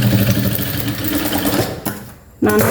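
A sewing machine runs steadily while stitching a half-shoulder blouse, loud and close. It pauses briefly near the end and then starts again.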